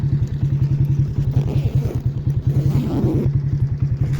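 A motorcycle engine runs on a forest road with a fast, steady, even thumping pulse, close and moderately loud with faint mechanical clatter over it.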